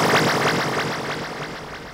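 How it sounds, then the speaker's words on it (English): A bubbly synth tone pulses rapidly in quick, wobbling bursts, steady and fairly loud, with no voices. "so I kind of call this like a bubble sweep type sound"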